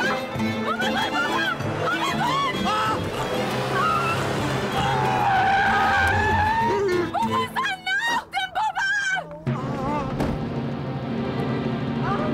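A car skids after its brakes fail in a Turkish TV comedy scene, a loud, sustained tire squeal under busy sound and raised voices, ending in a few sharp wavering squeals before cutting off.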